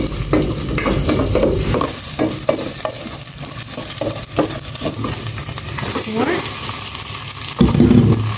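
Onions sautéing and being stirred in a hot oiled pan, a steady sizzle with scraping stir strokes throughout, close and fairly loud, with faint voices in the background.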